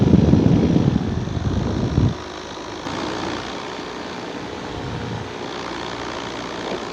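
A paramotor engine drones in flight near an airport at sunset. It is loud and rough for the first two seconds, then settles into a quieter, steady hum that continues to the end.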